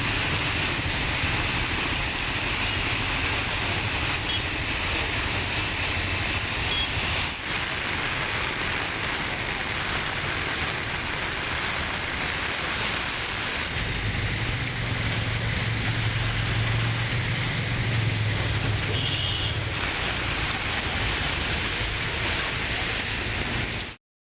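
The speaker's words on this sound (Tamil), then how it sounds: "பந்தலூர், சேரம்பாடி, தேவர் சோலை உள்ளிட்ட பகுதிகளிலும் பரவலாக கனமழை பெய்தது" Heavy rain falls steadily for the whole stretch, a dense continuous hiss of drops hitting surfaces, with a low rumble joining partway through and no voices.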